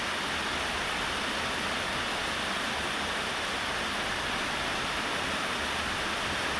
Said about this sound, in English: then this rain fell. Boy, is it falling.